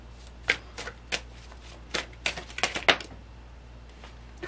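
Tarot cards are shuffled up close in a quick, irregular series of crisp slaps and riffles against a quiet background.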